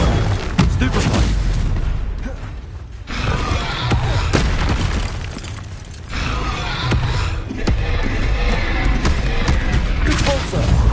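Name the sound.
Stupefy stunning spell cast in Hogwarts Legacy video game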